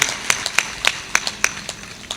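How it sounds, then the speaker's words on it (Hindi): Steady, rhythmic hand clapping from an audience at a Hindi religious discourse, crisp and evenly spaced claps in a brisk beat with a soft room hum beneath. "इसलिए ताली बजाओ और ठहाका मार कर हंसो"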